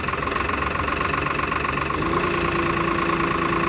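A Mahindra Arjun 555 tractor engine idles close by, a loud, steady diesel chug with a rapid knocking pulse that holds constant throughout.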